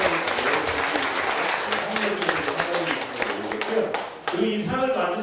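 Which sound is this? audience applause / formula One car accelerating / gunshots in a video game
audience applause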